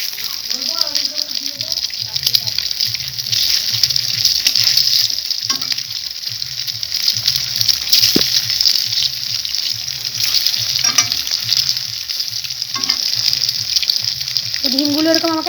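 Eggs dropped one by one into hot mustard oil in a wok, for an egg curry: a loud, continuous crackling sizzle with brief spatters and stirring scrapes, plus a few faint voice-like sounds and no clear talk.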